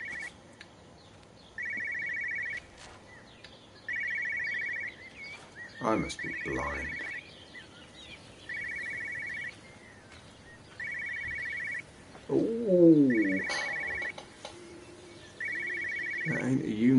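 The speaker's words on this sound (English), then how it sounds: "Oh, and there's the phone." Repeated electronic telephone ring inside the video game Everybody's Gone to the Rapture, sounding in regular bursts of about a second with short gaps, fairly loud, while a person talks briefly between rings.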